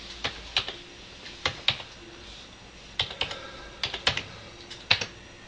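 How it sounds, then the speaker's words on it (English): Fingers tap out a SKU number on a computer keyboard, short bursts of crisp key clicks in small clusters separated by brief pauses, close and clear against a quiet room. "so I will type that in"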